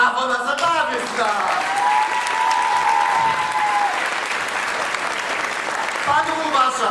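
Sustained audience applause during a performance of a song: a loud, dense, even roar of clapping that fills the whole stretch, with singing voices above it at the start and again near the end.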